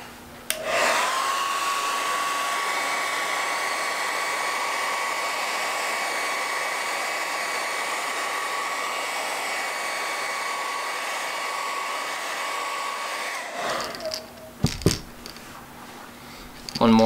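Heat gun or hair dryer heat-setting paint on a crankbait lure, a steady loud whirring blow with a high whine that runs for about thirteen seconds before switching off, followed by a few small clicks and knocks.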